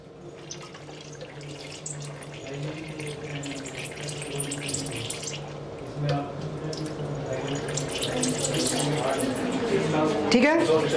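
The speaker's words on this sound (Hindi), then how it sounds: "25 ml जो है पानी ऐड कर देंगे।" About 25 ml of distilled water poured into a distillation tube during amino acid sample preparation with 98% sulfuric acid, a steady trickling splash that grows fuller toward the end while a person talks nearby.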